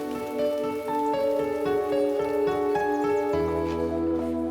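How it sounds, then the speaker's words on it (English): Steady rain falls outside a chapel in the Wiltshire countryside, a continuous close patter of drops on hard surfaces. A sustained tonal layer runs through it, and no voices are heard. "Let's get out of the rain, come on."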